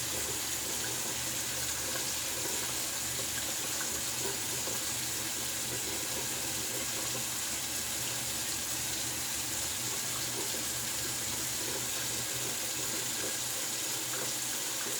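A sink tap runs with a steady, even hiss of cold water filling and splashing, quiet and continuous throughout, with no voices.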